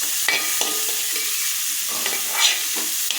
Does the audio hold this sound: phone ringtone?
no